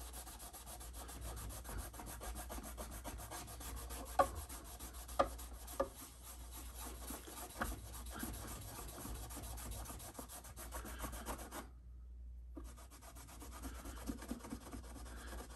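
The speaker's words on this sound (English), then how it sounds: "Still got a little bit on this rag. I'm gonna try and get some of these rougher areas here with the shine juice." An old German violin from the 1880s–1890s has its finish rubbed with a rag soaked in polish, giving a close, steady swishing friction in repeated strokes, with a few sharper taps and a brief pause near the end.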